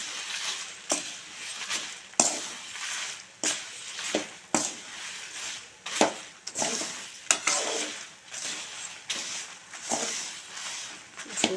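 A spoon scrapes and stirs spices with asafoetida in a pan for idli podi, with repeated scraping strokes in an uneven rhythm over a soft background hiss, close and moderately loud, with no talking.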